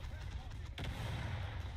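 Aircraft gunfire in the naval mode of War Thunder, a single sharp burst cutting through a steady low rumble of game noise, with a voice talking over it.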